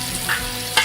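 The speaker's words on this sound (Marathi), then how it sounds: "व्यवस्थित आपल्याला मिक्स करून घ्यायचं आहे आणि चांगलं शिजून घ्यायचं आहे कांदा आपल्याला।" Chopped onion, green chillies and curry leaves fry in a pan, a brief steady sizzle broken by two short scraping stirs.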